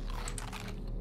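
Crisp crunching bites in the video game Subnautica, a quick burst of loud chewing crunches close up, with no voices.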